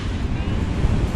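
Strong wind roars and buffets across the microphone on the open deck of the cruise ship Viking Orion, with a steady low rumble beneath, loud and continuous over a brief moment.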